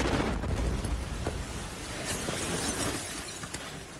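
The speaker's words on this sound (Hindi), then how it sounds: "आसमान से तेज आवाज करती हुई एक मिसाइल ठीक उसी बिल्डिंग के ऊपरी हिस्से पर आकर गिरी" A missile strikes the upper part of a building in a loud blast with a roaring, crashing rumble of debris and shattering that fills the air and slowly subsides.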